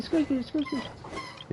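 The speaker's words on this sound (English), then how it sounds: "Yeah, I know, that's a dog in the background." A dog yips and whimpers in a short run of four high, whiny cries, followed by fainter whines, heard in the background while a person talks.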